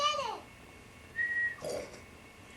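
A child whistling at home, producing a couple of short, breathy whistled notes with a brief steady tone, fairly faint and close, alongside a quick bit of voice.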